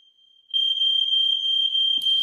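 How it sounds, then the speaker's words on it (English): A shrill, piercing electronic alarm tone sounds continuously, loud and unbroken, with a faint voice and rustle near the end. "Our smoke alarm's gone off."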